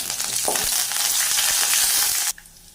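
Dried red chilies and curry leaves hitting hot oil in a pan with sliced shallots, a loud close hissing sizzle with a brief crackle, cutting off abruptly near the end.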